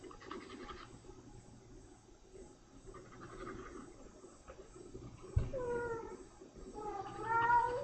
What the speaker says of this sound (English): he just ran away like a little crazy kitty